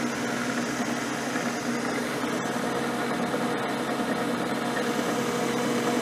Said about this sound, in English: Using a 3/4 inch end mill and 2-fluter.